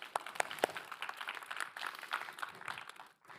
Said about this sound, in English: applause to the audience